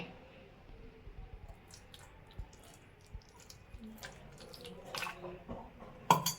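Ghee being poured into a pan for laddu makes faint, scattered trickles and soft drips over a quiet background, ending in a brief sharper splash or clink.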